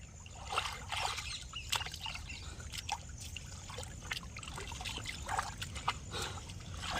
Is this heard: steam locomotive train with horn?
no